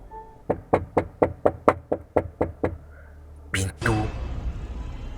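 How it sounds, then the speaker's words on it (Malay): Someone knocks on the door of a house, about nine sharp, evenly spaced raps, loud and close, followed by a short burst of other noise. "jelas kedengaran pintu rumah aku diketuk"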